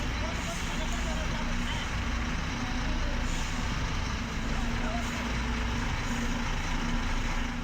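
Heavy company trucks on a village road in Konawe Selatan roar steadily and loudly, a dense continuous engine rumble with road noise and no clear pauses.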